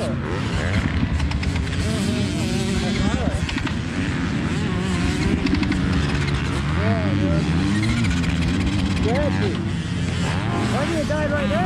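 A dirt bike engine on a motocross track revs in rising and falling whines, mixed with rough engine noise and loud talk.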